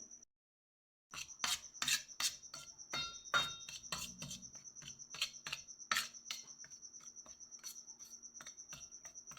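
Powdered sugar, chaat masala, coriander powder, garam masala and cumin powder are mixed by hand for a samosa filling. After a brief silence, close rhythmic rubbing and scraping strokes repeat steadily.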